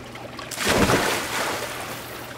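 Water splashes loudly as a person climbs into the water, one broad rushing burst near the middle that eases into a softer, lingering wash.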